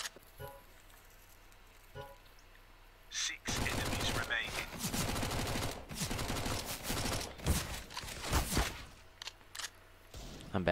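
Gunfire in the video game CS:GO Danger Zone: dense, loud bursts of rapid automatic shots that come in clusters over several seconds, mixed with clicks and game effects, under occasional player voices.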